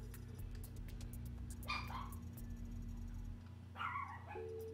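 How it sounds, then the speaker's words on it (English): A dog barks in two short clusters of yips somewhere in the home, fairly faint beneath steady game audio and a background hum. "My dog's barking"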